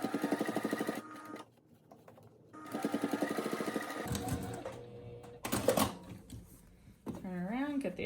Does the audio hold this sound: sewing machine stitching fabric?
yes